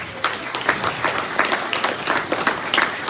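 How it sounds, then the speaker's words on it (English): Brief applause from an audience at a State of the City event, a moderate patter of individual claps with distinct hand strikes audible throughout. "Let's give them a round of applause."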